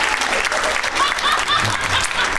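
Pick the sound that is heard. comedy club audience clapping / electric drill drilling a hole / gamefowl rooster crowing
comedy club audience clapping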